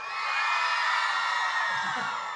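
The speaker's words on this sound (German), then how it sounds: "könnt einmal so laut schreien, wie ihr könnt" A large concert crowd in a hall screams and roars as loudly as it can, a dense sustained wall of yelling voices that stays loud and steady throughout.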